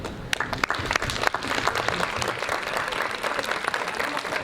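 Warm audience applause at a university press-freedom panel, marking the end of a question round; steady dense clapping fills the room from start to finish, with a few sharper claps standing out early.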